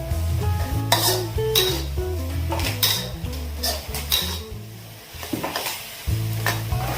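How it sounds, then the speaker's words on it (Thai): Vegetarian filling stir-fries in a pan: a spatula scrapes and clanks against metal in repeated strokes over a steady sizzle, close and fairly loud with no talking. "เราก็จะผัดไส้ให้ แห้งเลยนะครับ"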